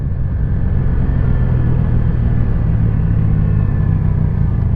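Honda Super Cub motorcycle engine while riding, a loud close steady rumble and drone with constant wind noise and no clear revving changes.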